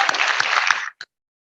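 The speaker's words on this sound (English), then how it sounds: "Can we give them another round of applause?" Audience applause at a Rotary club meeting: a loud burst of many hands clapping that stops abruptly, followed by one short stray clap and then silence.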